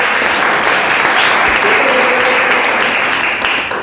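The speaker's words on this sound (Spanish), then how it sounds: "Bien, un aplauso." A crowd applauds steadily and loudly in a room during a presentation workshop, dense clapping holding for several seconds and easing slightly at the end.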